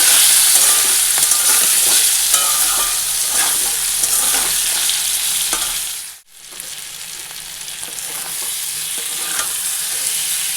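Spice masala with tomato sautéing loudly in a pan for a fish curry, a dense close sizzle with repeated stirring scrapes, briefly dropping out midway before resuming.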